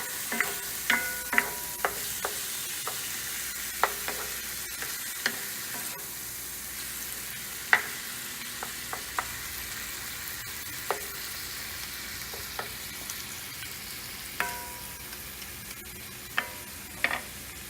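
Ground beef and ground lamb fry in a pot for a keto chili, a quiet continuous sizzle punctuated by sharp clicks and taps of stirring scattered throughout.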